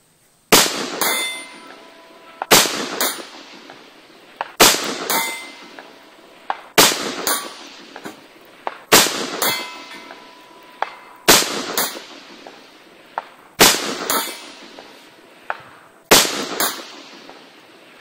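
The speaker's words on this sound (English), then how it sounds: "Our resetting target isn't going down, but you can easily hear the hits" Semi-automatic rifle rounds striking steel resetting targets at 500 yards, ringing metallic clangs each paired with a sharp shot crack, spaced in a steady cadence about every two seconds, loud and unaccompanied by speech.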